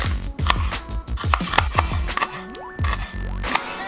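A knife chops Thai chili peppers rapidly on a cutting board, a quick series of sharp taps with brief pauses, close up.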